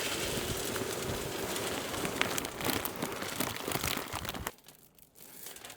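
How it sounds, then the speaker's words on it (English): Royal Oak charcoal and hickory blend wood pellets pour into the hopper of a RecTec pellet smoker, a dense rattling, crackling rush that stops abruptly, followed by a few faint scattered clicks. "let's go ahead and get some pellets loaded in here. We're going to be using the Royal Oak Charcoal and Hickory blend pellets"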